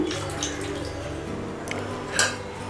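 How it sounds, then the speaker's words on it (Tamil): Water poured into a pot of sambar made with athalakkai, a liquid splashing and trickling sound against light kitchen clatter, with a brief louder splash near the end. "நான் இப்போ இதில் கொஞ்சம் தண்ணி சேர்த்துக்கிறேன்"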